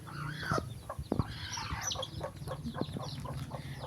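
Chickens cluck nearby in short, scattered bursts, with a few higher squawks among them over a quiet farmyard background.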